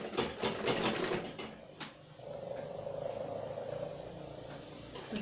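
A sewing machine stitches a two-piece standing shirt collar in short runs, a rapid mechanical chatter that starts and stops, followed by a quieter steady hum.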